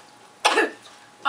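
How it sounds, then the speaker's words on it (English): A single harsh cough bursts out near the microphone during a comedic doctor's office skit, followed by a short pause and the start of another cough or throat clear. "I have a cough."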